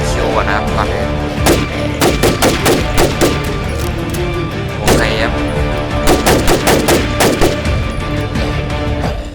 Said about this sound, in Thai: เราต้องเคลียร์ก่อนนะครับ เริ่มยิงเลย